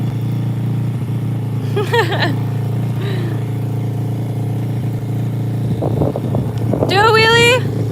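Steady low drone of a custom RFZ motorcycle engine idling and running on its first test, close and loud throughout, rising toward the end, with voices talking over it and some wind noise.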